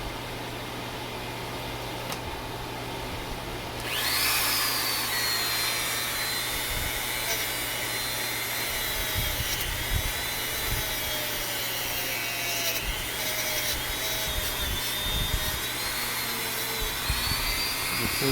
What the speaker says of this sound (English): we're going to whoop out the Dremel